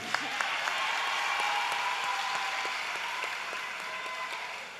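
Audience applause at a political gathering with the Prime Minister of Trinidad and Tobago, honouring the Minister of Works; steady, sustained clapping from a crowd at moderate distance with a few sharper claps and faint voices mixed in.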